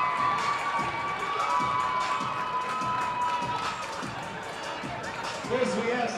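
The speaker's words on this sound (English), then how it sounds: "I want a round of applause for these two fine teams" Cheering and shouting from a crowd in a gym after a high school basketball game between Burke and Charlestown, a steady dense roar with scattered yells and voices throughout.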